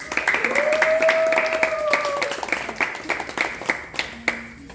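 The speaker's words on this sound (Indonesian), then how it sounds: "Beri tepuk tangan." Audience applause at an exhibition event, a steady patter of clapping mixed with music and tonal sounds, fading toward the end.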